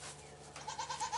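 A Nigerian Dwarf goat in a kidding pen gives a short series of quick, wavering bleats, fairly faint and close, after a moment of quiet, with no talking.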